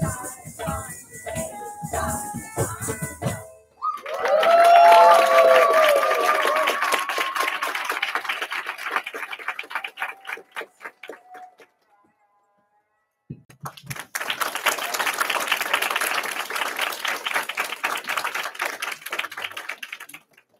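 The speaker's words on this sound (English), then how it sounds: "round of applause" Audience at a youth dance company classroom concert breaking into applause, dense clapping that starts abruptly after a brief sung or spoken phrase, fades out into silence, then returns for a second sustained round.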